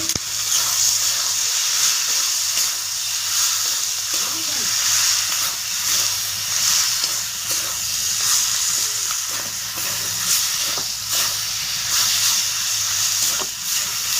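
Chicken skin frying in a hot pan makes a constant bright sizzle and hiss, with scattered stirring clatters underneath, close and steady throughout.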